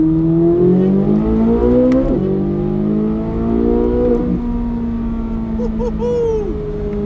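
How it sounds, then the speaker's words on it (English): A modified C8 Corvette Z06 accelerates hard with its exhaust valves open during a highway merge, its loud, rising engine note climbing through second gear. Quick shifts break the climb into steep ramps, all heard from inside the car. "Such an aggressive factory exhaust tone, and as I mentioned, the best part is that you can quiet it right down."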